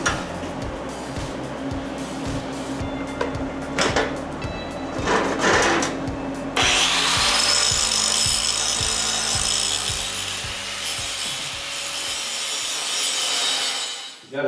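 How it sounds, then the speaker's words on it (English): An angle grinder grinds down bulbous welds on a steel power rack, starting in short bursts and then running in one long, loud, sustained pass before cutting off; music plays underneath. "So we're gonna grind that up, make it look nice so it doesn't look all bulbous"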